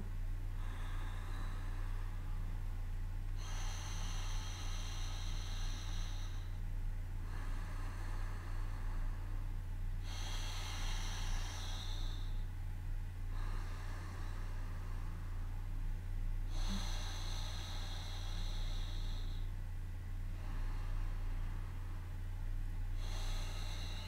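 Slow, regular ocean breathing through a constricted throat, several long hissing inhales and exhales in a steady rhythm over a constant low hum during a guided breathing exercise, with no speech.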